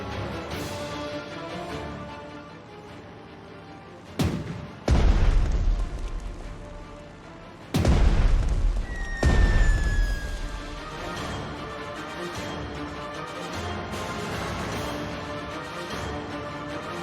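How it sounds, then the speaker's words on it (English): Heavy bombs from aircraft explode in the Pacific naval war game Strategic Mind: The Pacific, two deep booming blasts a few seconds apart with long rumbling tails over a steady engine drone, plus a short whistling streak. "Bombs, away!"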